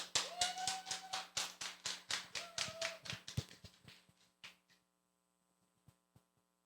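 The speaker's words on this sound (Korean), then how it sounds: "큰 박수로 모시겠습니다." A small forum audience gives a short round of distinct, crisp hand claps welcoming a presenter. The claps thin out over a few seconds and fade to a few scattered taps, all fairly faint.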